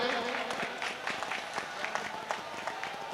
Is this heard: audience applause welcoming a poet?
yes